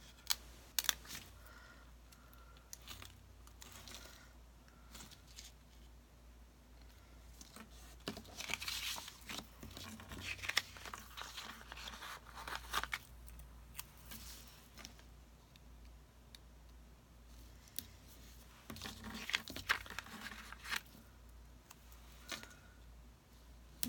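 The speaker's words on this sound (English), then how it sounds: "I'm gonna have to cut out her name and put it on my planner" Paper being cut out by hand for a personal planner, with soft snipping, rustling and crinkling in irregular bursts, fairly close and quiet, no talking.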